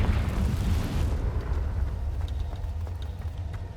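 A Confringo fire spell blasts in Hogwarts Legacy, a loud, low, roaring burst that fades gradually into a rumbling tail with faint crackles.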